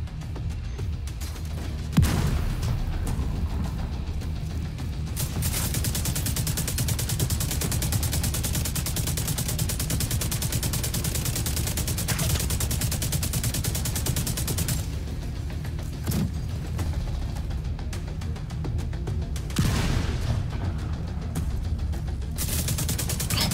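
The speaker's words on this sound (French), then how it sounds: "Attention, ça tire au mortier." Ongoing combat in The Division 2 during Warlords of New York in the Financial District, with mortar fire amid steady gunfire and occasional heavy thumps, a dense battle din that runs for the whole stretch.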